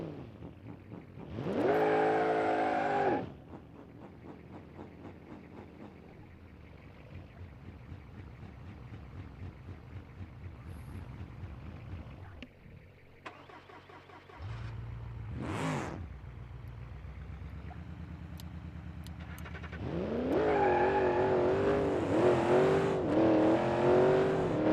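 A nitrous-boosted race car revving and racing in BeamNG.Drive, engine roars rising in bursts at the start and near the end, a steady droning hum between, with a sharp whoosh midway.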